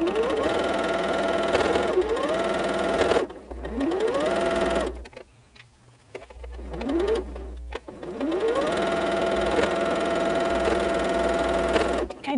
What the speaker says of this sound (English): Okay, let's sew.